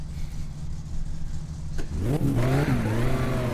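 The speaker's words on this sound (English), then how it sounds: "Because with this car, you just have to ram it into gear" A car engine in My Summer Car hums at a steady idle, then revs up sharply, its pitch climbing and wavering as it accelerates. It is loud and close, with no talk over it.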